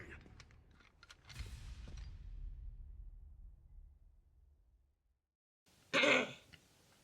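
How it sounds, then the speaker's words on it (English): A man clears his throat once, a short loud rasp near the end that follows a quiet stretch of low rumbling game audio and near silence. "Sorry if you hear me clearing my throat a lot, guys."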